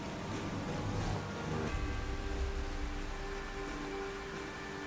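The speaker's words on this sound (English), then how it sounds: "the rain should clear up." Steady rain falls in a continuous soft hiss in the video game The Legend of Zelda: Tears of the Kingdom, with no voices, holding evenly for a few seconds.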